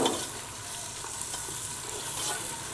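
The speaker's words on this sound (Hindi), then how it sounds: "और ये 1 पोथी लहसुन की है। इसको इकट्ठे ही सोते कर लेते हैं।" Chopped onion and a whole head of garlic sautéing together in a pan for a taro and mutton curry, a steady moderate sizzle with soft stirring scrapes throughout, no talking.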